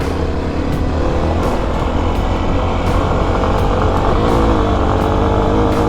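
A Kawasaki KLX250 dirt bike climbs a steep trail in third gear at full throttle, its engine a loud, sustained, close-up roar that holds steady with faint rattles and knocks over the top.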